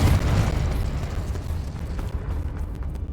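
A Confringo blasting spell erupts in Hogwarts Legacy, giving a deep rumbling explosion that starts loud and fades into a lingering low roar, close and with no talking.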